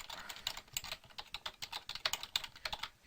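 Someone types code on a computer keyboard in quick, irregular bursts of close, crisp key clicks, with short pauses between runs of strokes and no speech.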